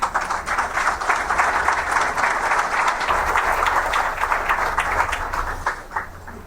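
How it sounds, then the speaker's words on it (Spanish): An auditorium audience applauds a guest speaker at a road-safety lecture, steady dense clapping sustained throughout and easing slightly at the end, with no one talking over it. "Un fuerte aplauso, por favor."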